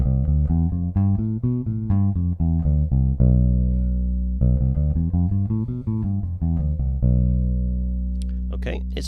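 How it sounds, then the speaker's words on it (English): A C Locrian mode scale played as a steady run of sustained tonal notes, ascending then descending, with a couple of held notes between phrases; clear and close with no talking. "we're on to the last mode of the major scale, and this is the Locrian mode"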